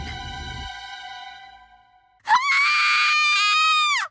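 A short low sound fades out, then after a pause a loud, sustained high-pitched scream rings out for nearly two seconds before cutting off.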